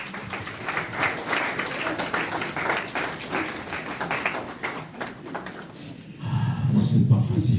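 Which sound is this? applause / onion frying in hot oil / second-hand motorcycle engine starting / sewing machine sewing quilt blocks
applause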